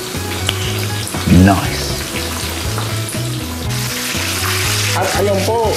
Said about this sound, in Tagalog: fry lang po natin siya ng mga 3 to 5 minutes or until maging golden brown ang ating chicken wings